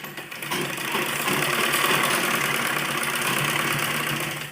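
A sewing machine hums in one loud, continuous run while stitching net fabric for a baby frock, a steady mechanical drone close by with no talking.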